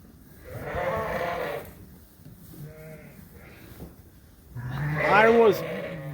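Suffolk sheep bleat in a lambing barn, with a few drawn-out calls rising over a steady barn background and one loud, close bleat near the end.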